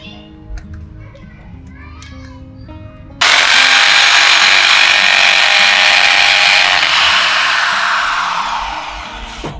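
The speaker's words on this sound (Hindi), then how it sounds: "ड्रिल हो गया" A power drill bores into a wall to mount a vertical garden, starting abruptly after some background chatter and running loud and steady for several seconds before easing off.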